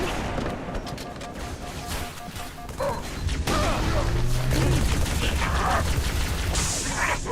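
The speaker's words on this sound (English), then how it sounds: "Quit shooting at me" Gunfire in Halo 3 rattles in bursts through the clip, growing denser and louder after the midpoint amid game effects, with occasional crashes and booms.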